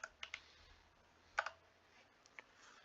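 Quiet clicks of keys on a computer keyboard come in short scattered bursts, a few taps then a pause, close and soft, with no talking.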